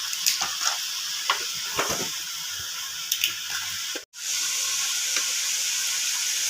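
A pot of appalam kuzhambu, a tamarind curry, bubbling and sizzling on the stove, a steady hiss broken by small pops and crackles, with a brief gap partway through.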